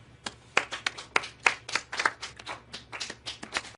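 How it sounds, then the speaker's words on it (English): A steady run of hand claps, about four per second, close and moderately loud with no voices. "Let's all start clapping"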